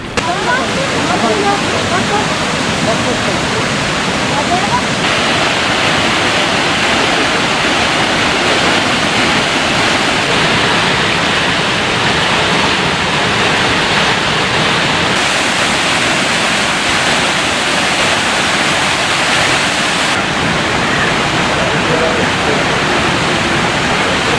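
Yerköprü waterfall in Konya roars steadily, a loud, dense, continuous rush of falling water close by that fills the whole clip without letup.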